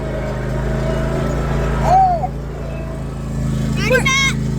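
A riding lawn mower engine drones steadily up close while children shout and talk over it, the low rumble running beneath their voices throughout.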